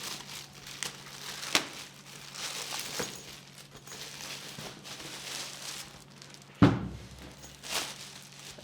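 Plastic bag around a collapsible silver beauty dish being torn and crinkled open, close and fairly quiet, with rustling throughout and a sharp rip partway through.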